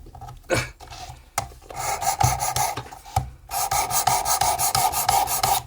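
A Felco pruning secateurs blade is stroked back and forth across a sharpening stone in a run of rasping, scraping passes. The passes are irregular at first, then a faster steady rhythm, loud and close, with no talk.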